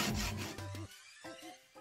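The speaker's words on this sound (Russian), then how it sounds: "Зажал в тисочки и потихонечку вот ножовкой по металлу" A hand hacksaw cuts through a brass fork clamped in a vise, giving a few close, rhythmic rasping strokes with short pauses between them.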